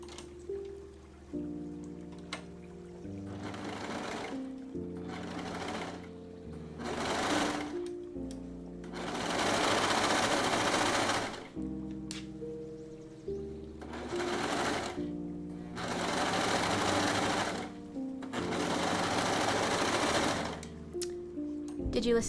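A serger sewing machine runs in repeated rapid stitching bursts, some long and some short, with brief pauses between them. The machine is close and fairly loud.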